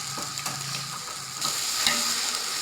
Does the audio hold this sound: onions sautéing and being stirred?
yes